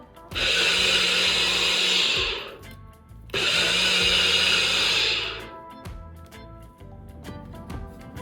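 A kitchen blender whirs loudly through a vegan popsicle fudge mixture in two long bursts, each running a couple of seconds before winding down, with a quiet pause between them.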